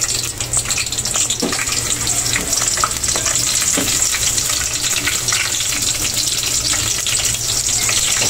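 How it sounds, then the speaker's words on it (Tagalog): Garlic sizzling in hot oil in a pan for chicken tinola, a loud steady crackling hiss throughout with occasional stirring clicks, no voices. "Tapos ilagay ko na rin po yung bawang."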